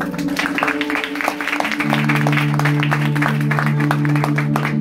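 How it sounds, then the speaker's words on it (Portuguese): Church congregation clapping for Jesus at a worship service, a steady dense patter of many hands over sustained organ or keyboard tones that swell louder midway, with voices faintly mixed in. "Dá uma salva de palmas para Jesus."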